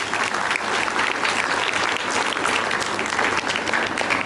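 An audience at a school prize event applauds the children, a dense, steady burst of many hands clapping, loud and close, continuing without pause for a few seconds.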